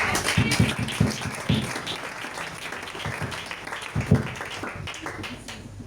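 A church congregation applauds in a steady, dense wash of clapping with a few sharper nearby claps standing out, and faint voices mixed in throughout.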